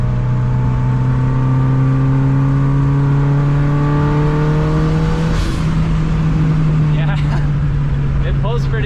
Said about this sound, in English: I definitely think it's going to be lean, but you definitely hear the turbo. It sounds cool.